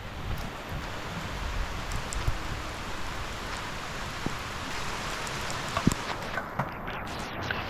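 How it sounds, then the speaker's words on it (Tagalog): Rain falls steadily at a car camping site, a continuous dense patter on surfaces and leaves with occasional sharper drips, even and moderately loud throughout. "Umuulan na."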